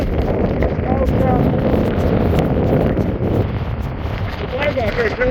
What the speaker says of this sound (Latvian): Baigākais vējš.